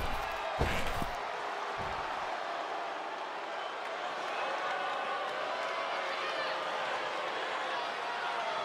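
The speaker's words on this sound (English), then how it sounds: "Listen to that crowd!" A wrestling arena crowd at a WWE women's title match roars in a steady, dense wash of cheering, with a few sharp thuds near the start and no clear speech over it.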